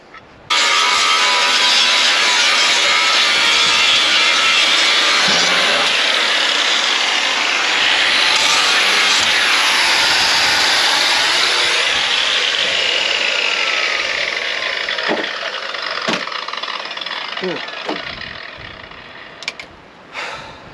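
A 9-inch angle grinder cutting on a V8 Land Rover recovery truck, a loud, close, sustained high whine lasting most of the stretch, its pitch shifting under load before it spins down near the end, with no talking.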